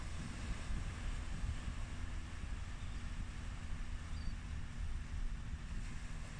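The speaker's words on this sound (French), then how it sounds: "où après le passage de chaque vague, une sorte de lissage naturel se dessine" Ocean waves wash onto a beach as a low, continuous rumbling surge, faint and steady, with soft wind and no voices.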